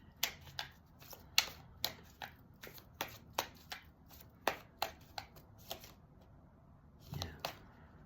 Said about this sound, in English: I'm just going to shuffle and focus on you, Christine.